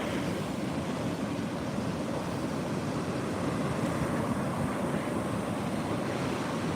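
Ocean waves surge and run up the beach at Bethany Beach during a coastal flood from Hurricane Erin, a steady loud roar of surf mixed with wind buffeting the microphone, continuous with no talking.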